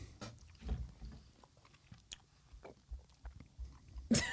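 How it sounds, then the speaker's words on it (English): Several people at a table chewing food close to the microphone, soft irregular crunching and munching bites scattered across a quiet room. "Now all of us are just chewing."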